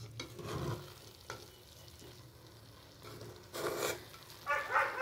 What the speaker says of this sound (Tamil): லைட்டாக கிண்டி விடலாம்.